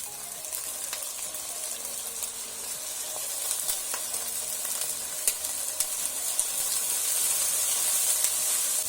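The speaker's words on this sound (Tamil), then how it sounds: "இப்போ அது கூட வாழைப்பூவும் சேர்த்து நல்லா வதக்கிக்கலாம்." Chopped banana flower sautés with onion and garlic in a pan, a steady close sizzle and hiss that grows slightly louder, with small crackles and clicks scattered through and no voices.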